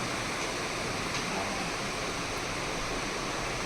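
Steady, dense hiss of heavy rain pouring continuously in Nashik, loud and close, with no voices.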